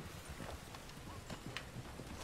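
Steady clip-clop of horse hooves trotting along in Red Dead Online, a rhythmic galloping patter over a continuous low background rumble.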